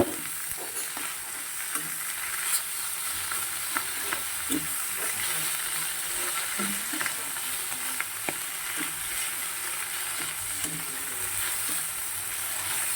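Mixed fresh vegetables, salted, fry in a pan and are stirred repeatedly, producing a constant close sizzling hiss with scattered light scrapes and clicks throughout, with no one speaking.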